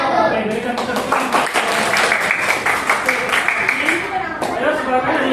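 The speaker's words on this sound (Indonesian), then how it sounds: "Oke, berikan tepuk tangan." Applause in a classroom during a teaching practice session, a steady wash of many hands clapping, moderately loud and continuous throughout, with some voices mixed in underneath.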